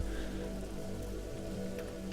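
Rain falls steadily in a soft, continuous patter, quiet and even, with a few faint drops standing out briefly.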